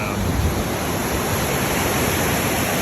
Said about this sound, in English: Made it to the far end of Tenaya Creek, although this is like a raging river now.